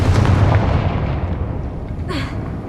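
A Confringo spell explodes in the video game Hogwarts Legacy, a loud booming blast that rumbles and fades, followed by a short whooshing burst near the end.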